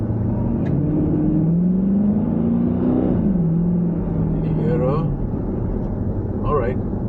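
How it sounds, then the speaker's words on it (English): A Dodge Challenger R/T with a performance exhaust growls low and deep, its pitch climbing as it revs and then settling back, with voices murmuring over it, on a night drive along Jumeirah Beach Road in Dubai. "It is a performance exhaust. Add some horsepower, gives you the sports growl."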